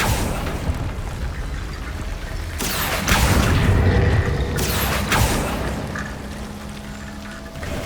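Confringo blasting spells set off fiery explosions in the Hogwarts Legacy video game, with two loud booming bursts over a steady rumbling game soundscape.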